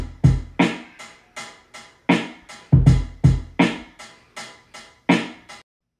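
Lo-fi drum pattern programmed in Logic Pro, with punchy kicks and hi-hats nudged slightly off the grid for a loose swing, a steady loop of decaying hits that stops near the end with no voices.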